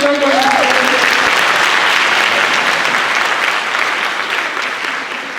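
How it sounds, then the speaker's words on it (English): Applause at the HUM IV Charter High School 2023 graduation ceremony for students receiving the New York State Seal of Civics: a loud, dense wash of crowd clapping that holds steady and fades slightly toward the end. "give them a round of applause"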